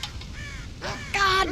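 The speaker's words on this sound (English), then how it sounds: "God damn crows!" Crows cawing in Red Dead Redemption, a few harsh, raspy caws, with the loudest call near the end of a short burst, heard among ambient game sounds.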